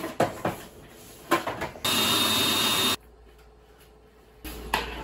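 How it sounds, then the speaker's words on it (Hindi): A mixer grinder whirs on cake batter ingredients in a loud, close burst of about a second, then a shorter second burst after a pause. Light knocks and handling clatter come around the runs. "चलो इसमें ऐसे इसे ग्राइंड करती हूँ।"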